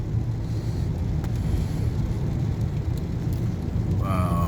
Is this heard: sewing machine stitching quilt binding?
no